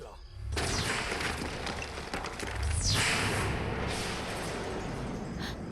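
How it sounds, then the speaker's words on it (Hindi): A dense burst of gunfire with sharp cracks over a noisy, rumbling background, loud and continuous for several seconds. "कम ऑन फुल्की, गोली चलाओ"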